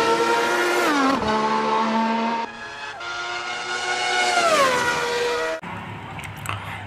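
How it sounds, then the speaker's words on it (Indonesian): A red Ferrari toy race car gives off a continuous, loud engine whine whose pitch climbs and falls in sweeping revs, dropping briefly before it rises again, with no one talking. "Di sini ada mobil balap Ferrari warna merah."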